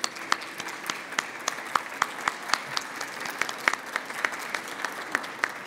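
Students being honored at a book presentation receive applause from the audience, a steady patter of many hands with sharp individual claps standing out, continuing at moderate loudness throughout with no talking over it.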